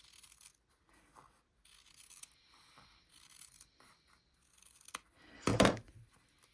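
Scissors cut down the center of sewn fabric for a quilt block, soft scattered snips and rasping strokes close by that end in one louder, longer slicing cut, with no talking.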